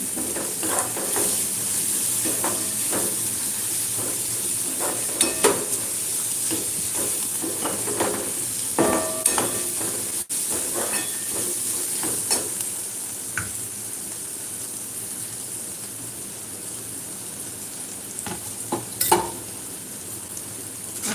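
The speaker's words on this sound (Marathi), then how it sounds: "हळद घेतले नाही व्यवस्थित एकत्रित करून घ्यायचं आहे चमच्याने" A spoon stirs turmeric through dried fish chutney frying in a pan, with a constant sizzle beneath intermittent scraping and clinks of the spoon against the pan.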